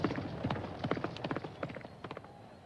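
Horse hooves clatter in a fast, dense clip-clop during a race in the video game Valkyrie Elysium, several horses galloping together at moderate volume with a steady background hiss and no clear speech.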